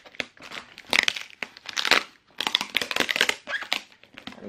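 Plastic and paper parcel packaging crinkles and rustles in close, irregular bursts as it is handled and pulled open.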